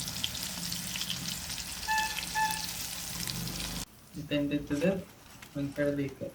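Prawn rava fry sizzles in hot oil, a steady frying hiss that continues under talking, with clattering stirring sounds toward the end.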